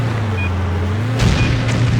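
In the PS2 stunt-driving game Stuntman, a steady vehicle drone is broken by an explosion at about 1.2 seconds, a deep boom with a crackling tail and a fainter follow-up burst, heard close and without any talk.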